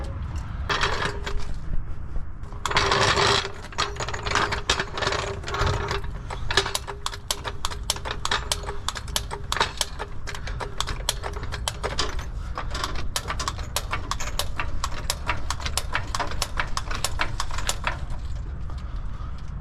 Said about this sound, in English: We're just going to jack this up just to get us enough room underneath it.